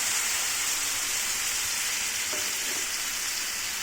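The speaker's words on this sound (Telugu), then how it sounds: "నూనె పైకి తేలేంత వరకు బాగా వేపుకోవాలి" Finely ground spice paste with a bay leaf and a piece of cinnamon fries in hot oil for chole masala, giving off a steady, dense sizzle that runs without pause, with a few faint stirring scrapes near the end.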